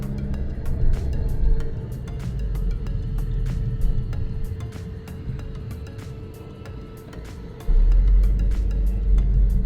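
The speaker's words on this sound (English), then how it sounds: "I'm just gonna drive to the workshop" A Volkswagen CC with a traction control and ABS fault drives along, a low steady road and engine rumble with a thumping surge near the end and faint ticking clicks throughout.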